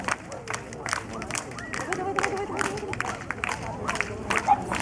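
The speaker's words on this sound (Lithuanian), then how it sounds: "It's very nice to hear your applauses." Audience at an international dog show in Moletai, Lithuania, with scattered clapping and crowd murmur at moderate distance, while an announcer speaks over it.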